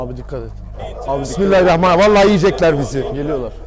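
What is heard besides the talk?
No everyday noises stand out.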